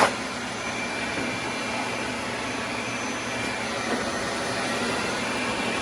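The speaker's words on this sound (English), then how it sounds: "She's sucking debris out of here." A vacuum cleaner sucks debris and an old mouse nest out of the trunk of a 1966 Oldsmobile Toronado barn find, a steady close roaring whoosh that runs unbroken throughout.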